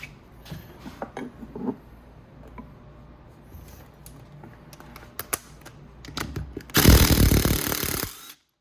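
A loud impact wrench rattles a bolt loose from a Venom 125cc engine, a dense burst of about a second and a half near the end, after quieter clicks and handling of tools.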